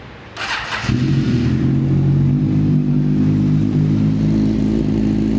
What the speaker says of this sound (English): Such a beautiful sounding bike.